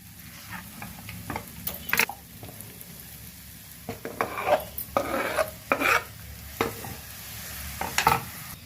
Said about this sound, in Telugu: ఇప్పుడు టమాటా ముక్కలు కూడా వేసేస్తాను.